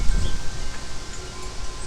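Strong wind blowing across a garden where kale grows, a constant breathy rush with low gusty buffeting on the microphone, close and fairly loud; no talk.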